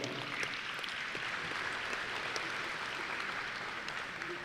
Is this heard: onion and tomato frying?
no